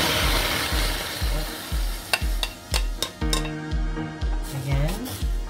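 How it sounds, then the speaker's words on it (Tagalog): Marinated beef tapa with oregano leaves fries in a pan while a utensil stirs it, making repeated rhythmic scraping strokes with sharp metallic clinks over a soft sizzle, close up. "So, ako pag nagpiprito nito, itong beef tapa na to, umuumbango na."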